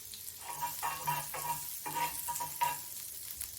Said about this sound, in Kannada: ಬ್ರೆಡ್ನ ರೋಸ್ಟ್ ಮಾಡ್ಕೊಳ್ಳಿ